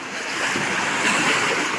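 Big waves surging and crashing at night, a loud continuous rush of surf and spray close by with wind across the microphone and no talking.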